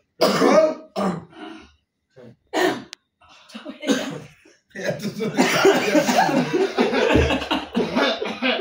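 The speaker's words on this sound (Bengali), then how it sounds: "কাশি দাও সমস্যা নাই" Several close, sharp bursts of coughing and throat clearing come in separate spurts, followed by a longer stretch of mixed coughing and chuckling, with some voices in the background.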